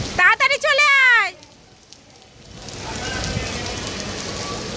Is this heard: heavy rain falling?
yes